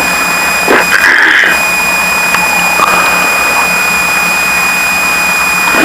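Twin engines of a Piper Seneca airplane running on the runway before takeoff, a loud steady drone with a high whine, no voices heard.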